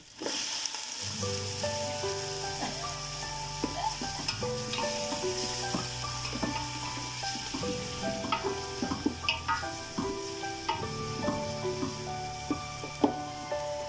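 Steady sizzling and crackling of chicken frying in a pot, with occasional stirring clinks and pops, continuous and close.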